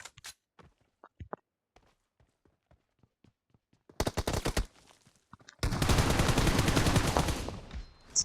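A video game firefight opens with a series of faint, evenly spaced ticks like footsteps, then breaks into a short loud burst and a longer dense roar of rapid gunfire close up.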